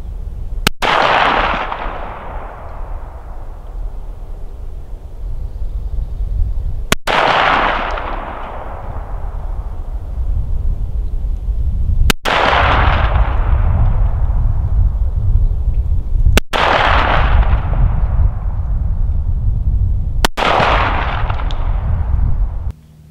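B&T APC9mm submachine gun firing 124 grain Gold Dot rounds at a 50 meter target: five loud single shots spaced several seconds apart, each a sharp crack with a long booming decay over steady outdoor background noise.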